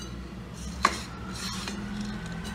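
Roasted coconut being scraped out of a hot pan into a bowl, a continuous close rubbing and rasping with one sharp metallic clink partway through, no talking.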